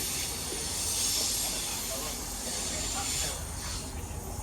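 A Class 390 train, City of Liverpool, 390-131, runs through Cheadle Hulme, a quiet, steady hiss and low rumble of rail noise that holds evenly from start to finish.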